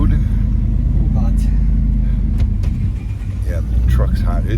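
A hot truck drives along the road, its engine and tire rumble loud and steady, with people talking over it.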